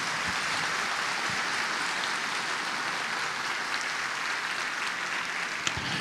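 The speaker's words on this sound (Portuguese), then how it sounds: "Uma salva de palmas para a Tânia." A show audience in Indaiatuba, São Paulo, gives sustained, even applause to honour someone, a dense wash of clapping that stays steady and fairly loud throughout with no talk over it.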